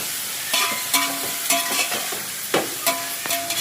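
Tomato and onion masala for biryani fries in a pan with a soft sizzle. A spoon scrapes and clatters against the metal in repeated uneven strokes, close by and with no talking.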